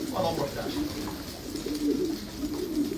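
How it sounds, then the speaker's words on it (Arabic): Pigeons in a loft coo softly and repeatedly, close by, with someone talking over them. "هي الحمامه حلوه فوق"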